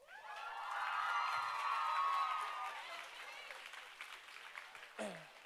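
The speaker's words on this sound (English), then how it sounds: "are y'all applauding for me or for her?" Audience at a church talk breaks into applause, a swelling wash of clapping that builds over the first two seconds, then fades gradually, with a brief voice near the end.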